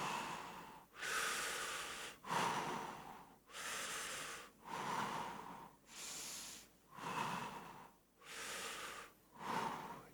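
Several people breathe deeply together in a slow, steady rhythm, about eight long breaths each rising and fading over roughly a second, loud and close, with no talking.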